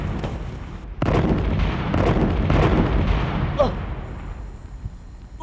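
Gunfire in a historical dramatization of a colonial-era uprising: several sharp booming shots and bursts ring out over a rumbling backdrop, with voices shouting and talking in between.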